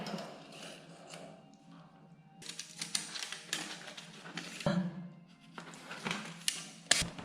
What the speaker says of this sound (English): tape measure